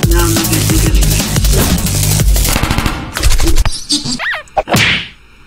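Rapid video-game gunfire from Henry Stickmin, loud dense bursts of machine-gun shots for about three seconds, then scattered thwacks, a whip-like swish and a trailing hiss as the barrage stops.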